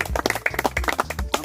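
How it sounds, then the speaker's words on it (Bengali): A small group claps for the winner of a Ludo game finale, with brisk, dense hand claps for a brief moment. "তো তার জন্য সবাই মিলে একটা জোরে হাততালি অমৃতার জন্য।"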